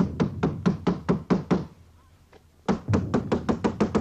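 Knocking on a door in a film scene: a fast run of about eight sharp, loud knocks, a pause of roughly a second, then another quick series of about eight knocks.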